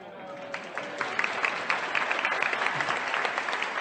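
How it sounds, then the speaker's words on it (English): An audience claps steadily, a moderately quiet, even patter of many hands lasting a few seconds. "So now you clap for the manifestation."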